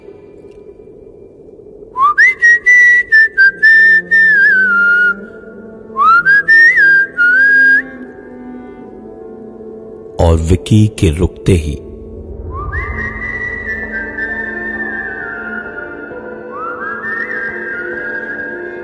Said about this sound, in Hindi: ढूंढते हुए ऐसे ही एक धुन सीटी की बजाई।